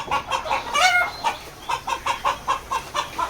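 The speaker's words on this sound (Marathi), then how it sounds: "आता या कोंबड्या राहिल्या तर या थोड्या वेळानंतर बाहेर निघतील" Chickens cluck in a poultry shed, a rapid series of close, rhythmic clucks repeating about every quarter second, with a brief louder squawk early on and no voices.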